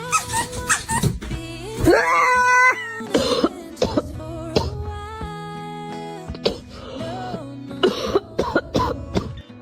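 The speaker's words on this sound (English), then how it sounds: "This kitten is absolutely losing its mind." A kitten meows repeatedly in short, high, wavering cries, some drawn out and insistent, close and fairly loud, with brief gaps and small rustles between calls.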